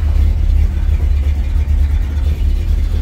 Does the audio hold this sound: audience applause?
no